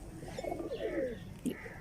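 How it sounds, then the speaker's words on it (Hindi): A champion pigeon gives a soft, close run of low cooing notes, then a brief second coo, with faint ambient noise behind. "ये मेरा चैंपियन कबूतर है"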